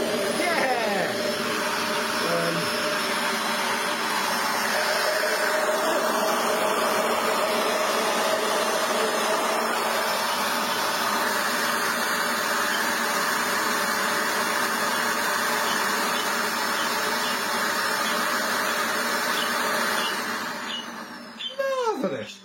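An upright vacuum cleaner runs steadily with its brush roll spinning freely after being cleared of debris, a loud continuous whirring roar that holds for about twenty seconds before cutting off, with a short flutter as it winds down.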